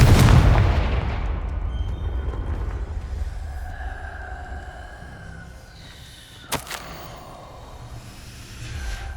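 A Confringo blasting spell goes off in Hogwarts Legacy, a loud booming burst at the start that rumbles and fades into a low ambient drone, with a sharp crack later on.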